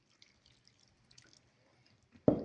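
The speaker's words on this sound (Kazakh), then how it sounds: "Так, и кішігірім су құйып жібереміз." A short splash of water poured into shashlik marinade, arriving as a brief, fairly close burst after near silence with a few faint drips and clicks.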